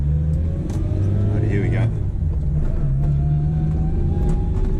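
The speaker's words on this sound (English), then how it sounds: "because this transmission has a straight cut gears, it sounds like a race car. Listen to that, you can hear the whine of it." A 1976 Honda Civic first generation driving, its straight-cut gear transmission giving a steady whine over a constant engine drone heard from inside the car, with someone speaking briefly over it.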